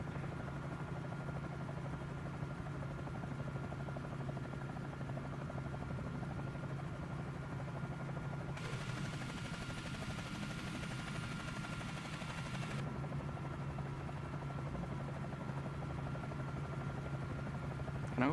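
Helicopter rotor blades turning in Microsoft Flight Simulator 2024 on PS5 Pro, hovering close over water: a steady, continuous low thrum with a constant drone, holding evenly throughout and swelling with brighter hiss for a few seconds in the middle.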